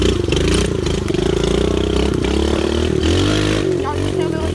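A small pit bike motorcycle engine revs loud and close on a trail, a steady buzzing drone that rises and falls with the throttle and never stops.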